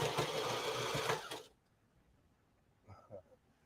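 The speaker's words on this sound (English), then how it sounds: "I'm going to sew the collar on" A sewing machine sews a collar onto a garment in cross stitch, running briefly at a loud, steady whir before stopping abruptly, followed by quiet room tone and a couple of soft thumps.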